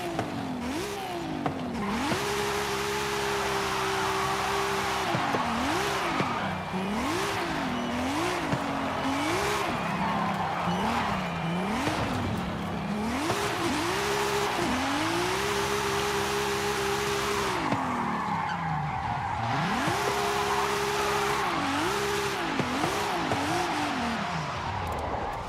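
A tuned car engine in Forza Horizon 5 during racing and drifting, revving hard through repeated rising and falling sweeps and gear shifts, with tire squeal and skidding between bursts, loud and close throughout.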